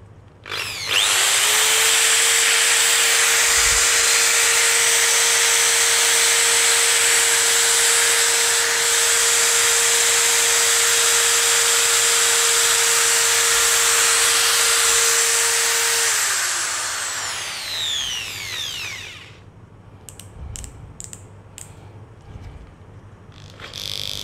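A Crown 600W impact drill (CT10128) spins up at raised speed with a loud, steady, high-pitched whine that holds for about fifteen seconds, then winds down and stops, leaving a few faint clicks and handling noises.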